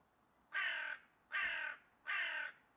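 A crow caws three times at an even, unhurried pace, each harsh call clear and separate with quiet gaps between them.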